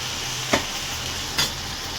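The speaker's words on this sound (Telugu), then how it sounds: "ఒకసారి కలిపేసుకోవాలి" Gongura leaf chutney cooking in a pan after salt goes in, a low steady sizzle with two quick scraping strokes of a stirring spoon about a second apart.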